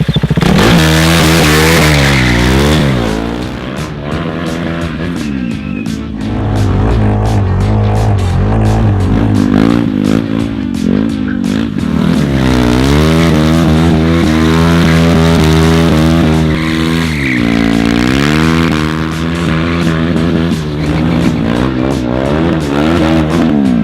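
RC car engine with a modified cooling system running hard while drifting, a loud, close, buzzing high-revving whine that rises and falls continuously with throttle changes throughout.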